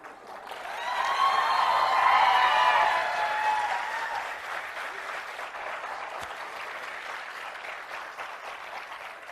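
Large hall audience at a motivational speech breaks into loud, dense applause that swells over the first few seconds, peaks, then eases to a thinner, lingering patter of claps.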